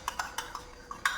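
A spoon stirs cornflour into milk in a bowl for homemade ice cream, giving about half a dozen quick, light clinks of metal against the dish, close and faint, with no talking.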